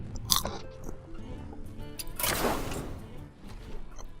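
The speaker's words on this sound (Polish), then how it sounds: "Chrupia orzeszki." Someone crunching peanuts, close and fairly quiet, with irregular bites and chewing crunches, a louder burst near the middle, and faint background noise.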